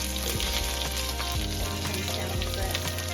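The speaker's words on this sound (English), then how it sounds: "So right now I'm going to pretty much fry the shell of the shrimp and get that into the oil" Steady oil sizzle and crackle of shrimp shells frying in a pan, close and continuous, with occasional stirring scrapes.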